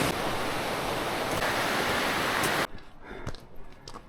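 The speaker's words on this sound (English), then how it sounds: "I knew I heard a waterfall" A loud, steady roar of a waterfall at the bottom of a gorge fills the first part, then cuts to a quieter, uneven rumble with scattered knocks.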